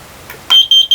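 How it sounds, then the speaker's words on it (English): A smoke detector in a renovated 1976 vintage RV camper sounds three sharp, loud electronic beeps in quick succession after a faint click, close and piercing. "will you test our smoke detector first?"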